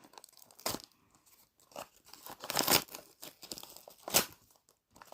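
Crinkly plastic and cardboard packaging of a toy box being torn open, a few sharp rustling and ripping bursts spread out with quiet gaps between them.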